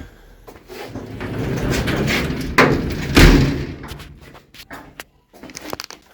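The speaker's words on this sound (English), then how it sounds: "Just shut this garage door a minute." A garage door rolls and rattles as it slides shut, ending in a couple of heavy thuds, followed by scattered knocks and shuffling.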